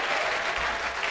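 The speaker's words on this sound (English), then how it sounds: "Are you clapping?" A church congregation claps in unison during a healing service, a brief loud burst of many hands close by with no voices standing out.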